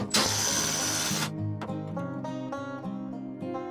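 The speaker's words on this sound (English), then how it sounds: "Next, screw in all the screws." A power drill drives screws into plywood for a shed loft floor: one loud, whining burst lasting just over a second, followed by a tonal, musical-sounding passage.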